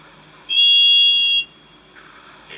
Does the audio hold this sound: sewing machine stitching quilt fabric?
no